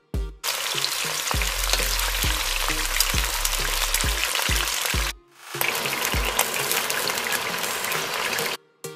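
Pieces of chicken are fried in hot oil in a second batch, giving a loud, continuous close crackling sizzle with repeated knocks and clunks as they are placed and moved, the frying briefly dropping out twice.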